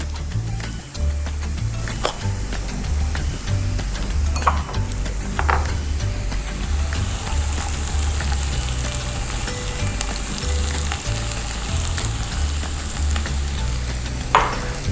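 Onions and quinoa sauté in a pan, a loud, close, steady sizzle with intermittent clicks and scrapes from stirring throughout, no voices.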